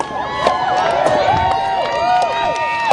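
A loud outdoor crowd cheers and shouts steadily for wood-chopping contestants at the Mason County Forest Festival, with overlapping voices and whistle-like calls forming a dense, continuous roar.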